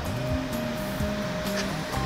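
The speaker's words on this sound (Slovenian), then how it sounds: "Tukaj pa že Oglajna dobiva ime reka." The Voglajna river flows at Opoka, where the stream first becomes a river, giving a steady rushing wash of water with no breaks, close and moderately loud, with no voices.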